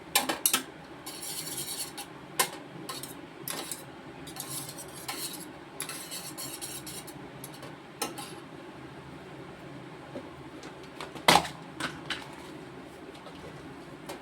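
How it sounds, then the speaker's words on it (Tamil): Eggs are beaten with a whisk in a bowl for egg curry, giving rapid irregular metallic clinks and scraping taps against the bowl, close but moderately quiet, with no speech. "இப்படி ஒரு விஸ்கு வச்சு நல்லா கிண்டிக்கிட்டோம்னா அந்த முட்டை பூரா நல்லா கரைஞ்சிரும்"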